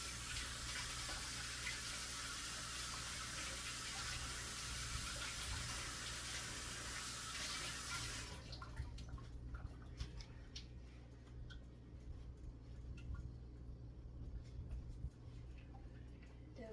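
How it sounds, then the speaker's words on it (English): A kitchen tap runs steadily while hands are washed under it, a soft continuous water hiss that stops halfway through, leaving faint quiet handling sounds. "Wash my hands off here."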